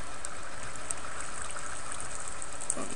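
Water pours steadily from a fountain in Minecraft, a constant hissing rush with no pauses and no voices over it.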